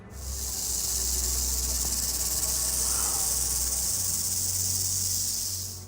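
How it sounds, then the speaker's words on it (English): Rattlesnake rattling outdoors, a steady, intense high buzz sustained for several seconds, loud and close with no talk. "With its intense buzzing sounds, the rattlesnake was generating a sense of fear in its surroundings."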